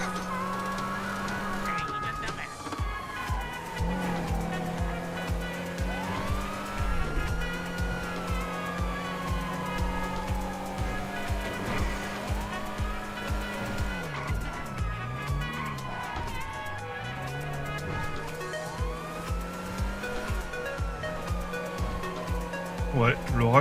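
Übermacht Oracle car driven hard in GTA roleplay, engine revving and shifting repeatedly with tires squealing through corners, steady and close throughout, with people talking over it.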